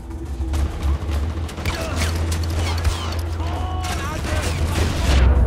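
Rapid gunfire from a precise weapon in the video game Far Cry 4 crackles in dense bursts over a low rumbling game soundscape, steady and loud throughout.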